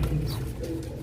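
Several desi pigeons of a batch offered for sale coo continuously together at close range, their low throaty calls overlapping without pause.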